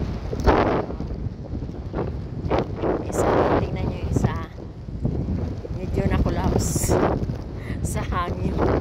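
Wind gusts at sea around a sailing boat, roaring steadily and fairly loud against the microphone, with rushing swells throughout and voices talking underneath.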